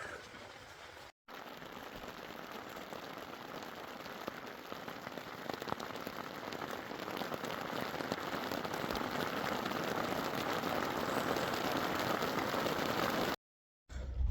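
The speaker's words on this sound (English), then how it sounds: "First it was spotty, and it just started pouring." Steady heavy rain pouring down, a dense unbroken hiss of drops on a surface that holds constant, with a brief cut near the start and end.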